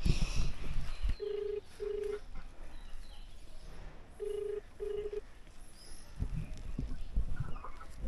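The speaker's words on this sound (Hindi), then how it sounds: "एक काम करता हूँ, फ़ोन कर लेता हूँ।" A mobile phone call rings out on a road trip in Assam, its ringback tone sounding as two pairs of double beeps. Background noise runs throughout, and clucking chickens are heard nearby.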